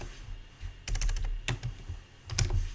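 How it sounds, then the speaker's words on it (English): Typing on a computer keyboard: a few quick clusters of close, crisp key clicks separated by short pauses, fairly quiet, with no talk. "I can type"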